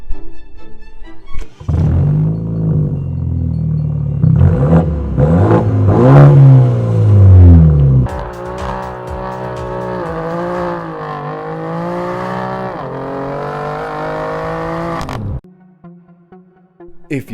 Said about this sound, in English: the ultimate driving machine, the BMW 3 Series, arguably one of the most fun vehicles ever created.